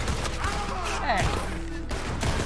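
Gunfire in the Red Dead Redemption 2 video game, a burst of repeated shots in a dense fusillade with scattered bangs, under game noise and some speech.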